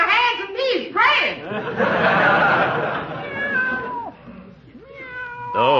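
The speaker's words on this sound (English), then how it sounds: "Give the cat a boot if he bothers your peevee." A cat meows repeatedly in a 1940s radio comedy, several drawn-out, rising and falling cries close up, with a voice and chatter mixed in between.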